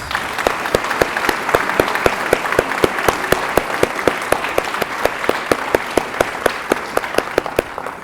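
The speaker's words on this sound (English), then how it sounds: "Larry Prescott, and Dr. Don Baldwin Gibson all rise for a big round of applause." Banquet guests honouring college dignitaries applaud in a steady crowd clatter, with one sharp, evenly timed clap standing out near the microphone throughout.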